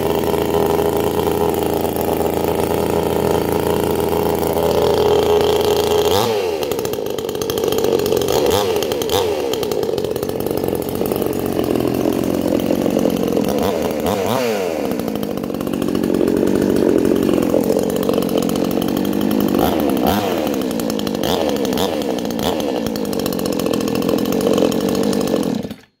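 A Hyper Tough chainsaw from Walmart is pull-started and runs, its small two-stroke engine droning loudly and steadily with several sharp revs and dips in pitch throughout, no voices.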